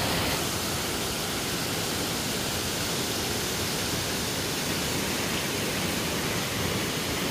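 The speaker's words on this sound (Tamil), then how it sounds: "ஆனால் இந்த இடம் வந்து நல்ல அமைதியாக தான் தண்ணி ஓடுது" Steady broadband rush of water flowing near a waterfall in Sri Lanka, a constant even wash with no breaks and no voices.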